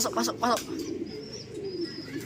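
Racing pigeons coo softly at close range, a couple of low throaty calls near the start followed by faint chirps over a quiet loft background.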